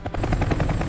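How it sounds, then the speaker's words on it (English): Rapid, rhythmic thumping of helicopter rotor blades, loud and close, beating steadily throughout. "As the helicopter descended"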